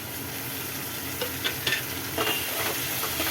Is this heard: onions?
yes